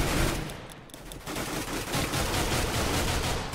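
Rapid gunfire in a Minecraft MineStrike match, a dense, loud fusillade of shots that dips briefly and then continues in sustained bursts.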